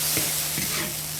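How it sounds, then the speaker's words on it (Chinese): Pickled cabbage, pickled chilies, ginger, garlic and tomato stir-fry in rapeseed oil, a brief, dense sizzle broken by a few scraping stirs of the spatula. "给它炒出味道来"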